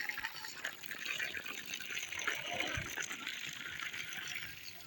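Water poured from a container onto freshly planted tomato seedlings in garden soil, a continuous soft gushing splash held steady and fairly close for several seconds.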